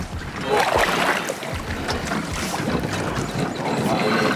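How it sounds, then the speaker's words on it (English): A new Jackson Knarr kayak being paddled on open water: steady splashing and swishing of paddle strokes amid wind noise, close to the microphone, loud and continuous. "when you get the shot to paddle a new kayak, do it"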